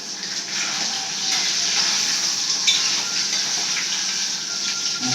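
Whole spices such as fennel seeds sizzle and crackle in hot oil for paneer biryani, a steady bright hiss close up with occasional stirring scrapes and no talking.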